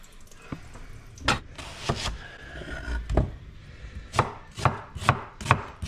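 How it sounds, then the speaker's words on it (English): A knife chops onions, celery and carrots on a cutting board for minestrone soup, making close, crisp thuds, first spaced out and then in a quicker steady run. "now we're going to cut up some onions and some celery, some carrots"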